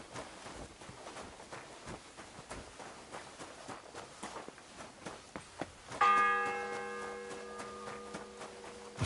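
In the video game Kingdom Come Deliverance 2, one church bell strike rings out clearly and decays slowly after several seconds of soft footsteps and ambient hum.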